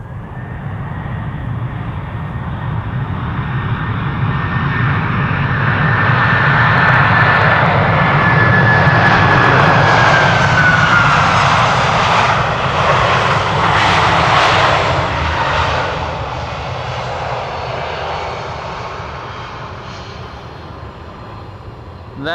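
A Delta jet airliner roars along the Polderbaan runway at Amsterdam at night, its engine noise swelling to a loud peak mid-clip before fading with the passing aircraft, and no one speaks.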